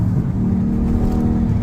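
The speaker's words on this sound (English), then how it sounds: "this is where you get the exciting exhaust notes with the Iceman" A race truck at a race event drives past with its exhaust note rising into a continuous, fairly loud engine drone and a slight revving edge. No one speaks.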